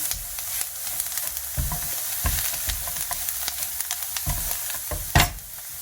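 Spices and salt frying in a pan for a spinach börek filling, stirred with scrapes and taps over a steady sizzle, close up, with one sharper clatter near the end.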